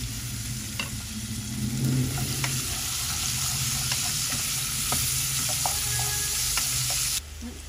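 Onion paste fries in a pan with a constant close sizzle while a spoon scrapes and stirs through it, with occasional light clinks over the steady hiss.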